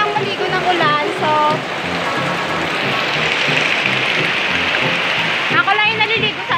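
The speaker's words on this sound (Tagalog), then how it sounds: "Ay, saya lang maligo ng ulan" Heavy rain pours steadily with splashing water as a woman stands out in it bathing, the dense hiss continuous and close, with her voice speaking and exclaiming over the downpour.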